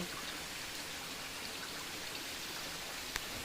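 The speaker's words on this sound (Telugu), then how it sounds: "సున్నపగడ్డ వాటర్ ఫాల్స్ ప్రధానమైన భాగం ఫ్రెండ్స్ ఇదే ముఖ్యమైన వాటర్ ఫాల్స్" Sunnapugadda waterfall in dense forest, flowing water making a steady, even rush of broadband noise that holds constant throughout, with a single brief tick near the end and no voices.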